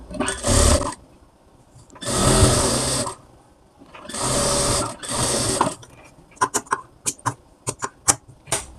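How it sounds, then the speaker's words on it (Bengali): Bursts of a sewing machine stitching a blouse neckline, several runs of steady whirring separated by pauses, followed by a series of short, sharp stitch taps and clicks, close and clear with no talk. "এরপর মুখ দিয়ে একটা চাপ সেলাই দিয়ে নেব গলার মতো করে"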